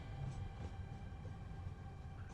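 Electric train on the Slovak Tatra mountain railway, a steady low rumble of wheels and motor holding at an even level throughout, without clear peaks or voices.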